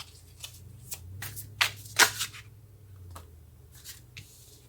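Tarot cards are shuffled by hand, a series of soft riffling and flicking bursts with a few sharper snaps near the middle, close and quiet with no talk.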